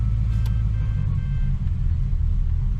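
A car engine that needed its BCM whacked to start runs at a steady idle, a deep, close, continuous rumble with low vibration and no talk over it.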